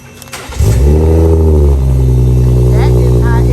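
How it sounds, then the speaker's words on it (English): BMW 340i with a VRSF exhaust cranking and firing up, a sharp starter whir bursting into a loud deep rev that settles into a steady rumbling idle close to the microphone. "That is how it sounds crank."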